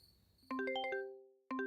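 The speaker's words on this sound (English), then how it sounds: "Her phone rang." A phone ringing with a bright chime melody, a rapid cascade of clear tones followed by a second burst after a short pause, near and alone.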